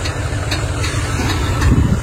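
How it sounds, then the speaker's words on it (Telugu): A tractor that has just delivered soil to a new house site idles nearby, a steady loud low engine rumble running throughout without speech. "ఇంకా ఇంకో ట్రాక్టర్ వచ్చేసి అక్కడ ఆగింది"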